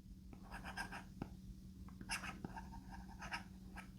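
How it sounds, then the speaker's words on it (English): An Apple Pencil writing on an iPad Pro screen, soft scratchy strokes in short irregular bursts with a few light taps, close but faint, with no talking. "it feels like I'm writing with a real pencil"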